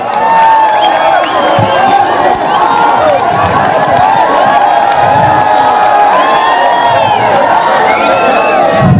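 A crowd at a political rally in Malegaon city applauds, cheers and whoops to welcome a speaker, loud and sustained, with shouts and voices rising over the clapping throughout.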